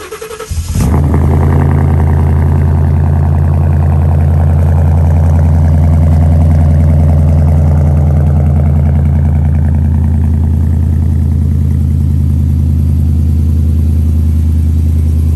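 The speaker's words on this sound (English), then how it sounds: "I'm going to go ahead and do a cold start so you guys can hear what it sounds like with the muffler delete" Ford Mustang GT with a muffler delete and flood title, cold-starting: a quick crank catches into a loud, deep, steady high idle that rumbles continuously up close with no talking.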